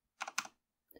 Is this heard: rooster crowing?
no